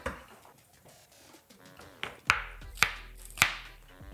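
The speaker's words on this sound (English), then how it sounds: "We're gonna do some nice thin slices of our onions here." A knife chops a red onion into thin slices on a cutting board, with three or four sharp, close strikes near the end after softer handling noises.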